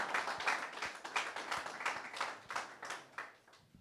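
Crowd applause at an MMA weigh-in event, a small group clapping fairly quietly and steadily for a few seconds before it fades out.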